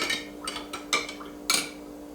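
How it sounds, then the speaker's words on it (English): Herbal mocktail infusions being stirred in jars, giving a few soft clinks and scrapes of a spoon against glass in short separate bursts, fairly quiet over a steady low hum. "We'll give all of these a little stir."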